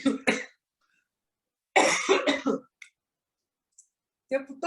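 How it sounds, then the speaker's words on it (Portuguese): Someone coughs during a spoken testimony interview, in a few short harsh bursts near the start and middle and again at the end, close and fairly loud, with quiet gaps between. "tosse"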